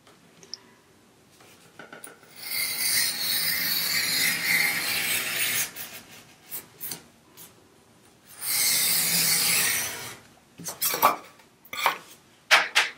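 A sharp blade drags through foam core mat board in two long scraping strokes, each a few seconds of raspy, close cutting, with small clicks and handling taps between and after them.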